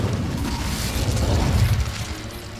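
An Incendio fire spell in Hogwarts Legacy bursts with a heavy, low whooshing roar, loud and sustained for a couple of seconds without speech.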